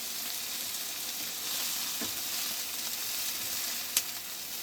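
Chopped onions frying in oil in a pan for a mince stew, a steady close sizzle with a couple of faint clicks from stirring, no voices.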